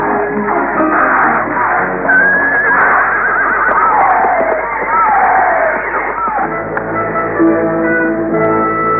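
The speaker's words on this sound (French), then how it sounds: "C'est mon cheval!" A horse neighs in a 1960 Bagdad adventure film, giving loud, shrill, wavering whinnies in the middle of the clip. Hoof clatter and crowd commotion sit underneath, and voices can be heard nearby.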